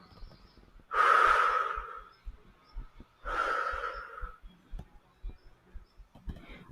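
Two long, deep breaths drawn near the microphone during a yoga session, each an airy rush lasting about a second, separated by a short pause, with soft faint movement sounds between them.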